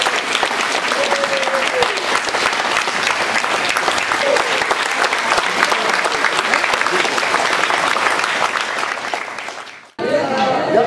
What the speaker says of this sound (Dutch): Nog een keer applaus.